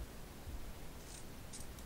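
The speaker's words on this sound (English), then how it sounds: "Let's get my scissors," Scissors snipping the protruding ends of a bias binding fabric strip, faint quick cuts heard close up over quiet room hiss, with a couple of soft crisp snips near the end.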